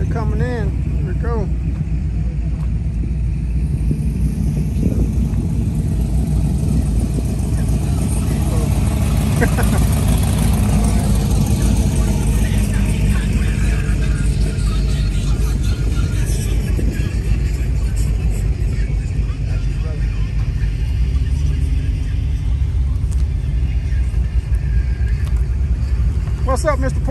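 Continuous deep rumble of car engines idling and rolling in at a Coffee and Cars show at Remington Park, loud and close throughout, with people talking over it.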